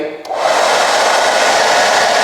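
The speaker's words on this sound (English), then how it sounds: "A hairdryer." A hair dryer powered by a Bluetti EB70 portable power station switches on and settles into a loud, steady blowing whoosh that runs without a break.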